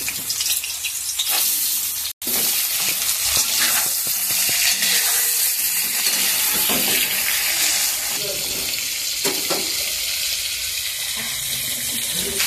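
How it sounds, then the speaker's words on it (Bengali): Prawns fry in hot oil in a wok with a loud, continuous sizzling hiss that breaks off for a moment before returning, along with occasional stirring clatter and faint speech beneath it. "এবার চিংড়ি মাছটা ভেজে নেব।"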